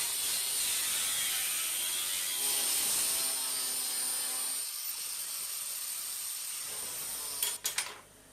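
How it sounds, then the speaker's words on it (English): Angle grinder with a thin cutting disc slicing aluminium: a high whining shriek holds steady for several seconds, drops off as the cut ends, then a few sharp clatters follow. "using the grinder with the thin disc in it just to slice them off"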